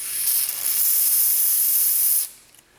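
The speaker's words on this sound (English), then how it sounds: "then spray it onto something like a cotton swab" An aerosol sprays onto a cotton swab applicator for a Timeshapes W11 clock in a loud, continuous hiss of just over two seconds that cuts off abruptly, leaving a faint tail.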